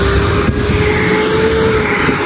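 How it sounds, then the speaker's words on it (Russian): A bus passes close by on a New York City street, its engine a loud, steady drone with a faint high whine that fills the whole short stretch, and no talking. "смотрите, едет автобус"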